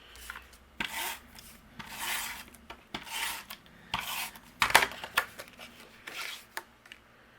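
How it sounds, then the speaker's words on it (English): Paper panel being trimmed into half-inch strips for a handmade vase card, a series of soft rasping cuts in uneven bursts, close and fairly quiet, with no voices. "I'm going to take this panel and we're going to trim this down into 1/2 inch strips"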